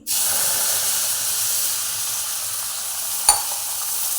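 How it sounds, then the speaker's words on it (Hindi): Milk poured into hot semolina halwa in the pan, setting off an abrupt, loud, continuous hiss and sizzle that holds steady, broken once by a short clink near the end. "अब हम इसमें जो है दूध डालेंगे"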